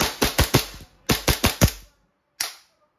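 A WE Hi-Capa 5.1 Type K gas blowback airsoft pistol firing close by: two quick bursts of four sharp snapping shots each, then a single final shot after a pause.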